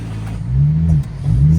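Close, loud revving from a Nissan 180SX running a 1000 hp 2JZ engine, the rpm climbing and holding high, dipping briefly, then surging again in a second rising rev.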